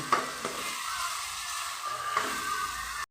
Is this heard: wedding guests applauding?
no